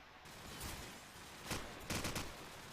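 Quiet, distant bursts of gunfire from wall banging in Call of Duty 4 during a competitive grand final, with several short volleys spaced over a low, steady background.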